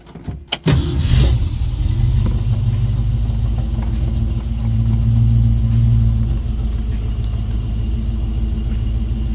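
A 1966 Ford Mustang convertible with a C-code engine is cold-started: a brief cranking burst catches into a loud, rumbling idle that swells slightly before settling into a steady, deep drone.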